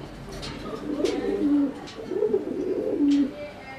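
Fancy Homa and Giribaj pigeons coo in repeated low, throaty rolling phrases, two main swells of cooing close by with faint background noise and no talk.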